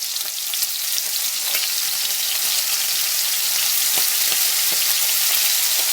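Onions sear in a pot for a squirrel stew, giving a steady, close, dense sizzle with faint crackles throughout and no talk.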